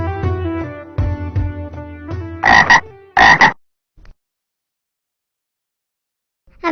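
Cartoon frog croaking in a children's animated short, a few loud, raspy croaks in quick succession after a musical passage, then silence and one more croak at the end.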